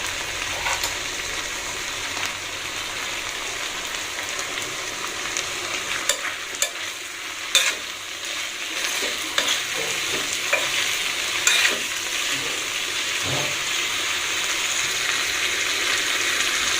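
Chital fish frying in a pan gives a continuous sizzle, broken by repeated scraping and clinking as a utensil stirs it, with no talking.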